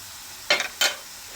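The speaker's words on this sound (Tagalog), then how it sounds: "Mikos, sumasama yung kawali sa pagmikos-mikos ah" Food is stirred in a kawali frying pan, giving two quick scraping strokes of the spatula against the metal over a steady low sizzle, close and clear, with no voice.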